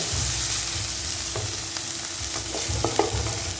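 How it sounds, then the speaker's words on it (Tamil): Onions sizzle and fry in oil in a kadai, a steady close crackling hiss with occasional stirring scrapes and clinks, no talk. "வெங்காயத்தை வறுத்து விட்டுருங்க கொஞ்சம் நல்லா எண்ணெயில் நல்லா வறுக்கட்டும்"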